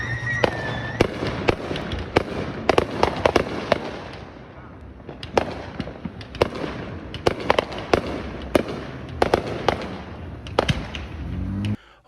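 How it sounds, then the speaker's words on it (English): Fourth of July fireworks going off non-stop, a long string of sharp cracks and booms at irregular intervals, some near and loud, others more distant, with crackling in between and faint voices in the background. "we couldn't go without seeing and hearing the fireworks going non-stop."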